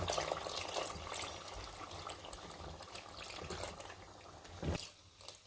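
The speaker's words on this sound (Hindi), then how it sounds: "अब मैं इसमें पानी ऐड करूँगी।" Water poured into a pan of aloo kofta curry, a steady close trickle and splash that swells near the end before stopping, with no talking.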